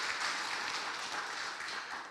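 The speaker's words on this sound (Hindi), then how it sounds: "क्यों ना जोर से ताली के द्वारा उनका स्वागत करें।" A church congregation at a Sunday Hindi service at Kinoya Assembly applauding to welcome guests, a soft, distant, continuous patter of many hands lasting a couple of seconds.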